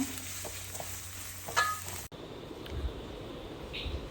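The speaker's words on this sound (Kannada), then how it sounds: "ಇವಾಗ ಒಂದು ಆನಿಯನ್ ರೆಡ್ ಆಗೋ ತನಕ ಫ್ರೈ ಮಾಡಬೇಕು." Onion frying in a pan with garlic for gobi manchurian gives a steady low sizzle, broken by a brief clunk midway, then continuing softly.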